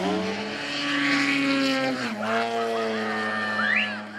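An aerobatic model airplane's engine drones steadily at a model flying day in Hausen am Albis. The pitch drops midway, then a rising whine follows as the plane manoeuvres, loud and continuous.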